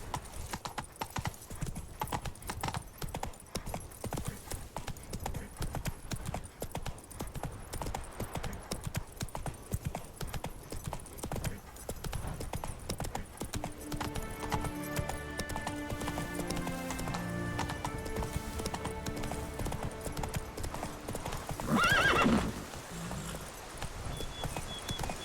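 A horse gallops in The Witcher 3, its hooves pounding a fast, continuous clip-clop from start to finish, joined later by music and a sharp neigh near the end.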